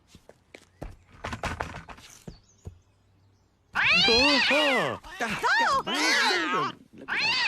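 A cartoon cat gives loud, drawn-out meows and yowls in quick succession close up. Footsteps and thumps come first, and voices talk at points in the scene.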